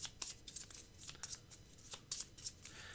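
Magic: The Gathering cards are riffle-shuffled and flicked together in quick, crisp bursts of snapping and rustling, close and fairly quiet, with no talking.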